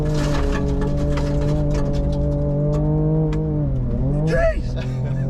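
New Ford Ranger Raptor with adaptive suspension driven hard on tarmac, its engine roaring loud and close with a steady high rev that dips and surges as it lands a jump, tires scrabbling briefly near the end.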